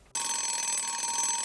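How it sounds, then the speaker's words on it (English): An alarm clock bursts into ringing in a bedroom, a sudden, loud, continuous electronic ring that holds steady without pause and has no voices over it. "Sam had just crawled back into bed when the alarm went off"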